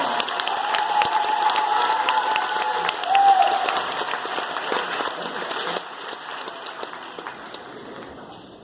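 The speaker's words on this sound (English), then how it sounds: "Let's give all of our support employee of the year location winners a round of applause" An audience at a school district staff kick-off applauds the support employees of the year, with sustained clapping and some cheering that gradually thins and fades over several seconds.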